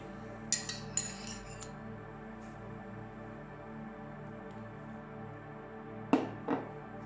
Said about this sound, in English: You can start by mixing the mayo